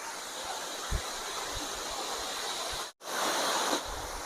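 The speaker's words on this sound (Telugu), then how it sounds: "the great Talakona water falls" Steady broadband rush of falling water at Talakona waterfall, continuous and fairly loud, broken by a brief dropout near the end, with a few low thumps.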